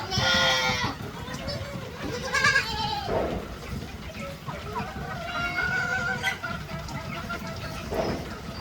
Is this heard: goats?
yes